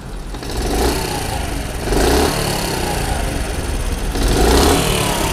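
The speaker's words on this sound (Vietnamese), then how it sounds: "cái tiếng máy, động cơ của dòng xe Honda Charlie này" A 1998 Honda Chaly 50cc motorcycle engine runs loudly close by, revving up and settling back in a few uneven surges.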